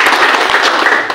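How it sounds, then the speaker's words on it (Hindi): An audience at a direct selling business meeting claps together, giving a short, loud, dense burst of applause that fills the whole moment. "एक बार जोरदार तालियां"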